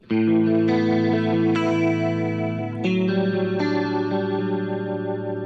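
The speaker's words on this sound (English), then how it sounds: "Let's hear the tri-stereo with both." A Suhr electric guitar plays through a tri-stereo chorus with both chorus circuits engaged, aiming for a lush LA studio tone. Loud, sustained strummed chords ring with shimmering modulation, changing several times, up close with no talking.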